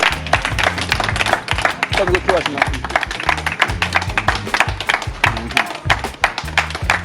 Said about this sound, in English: I'm gonna get SG from the UK a round of applause, please.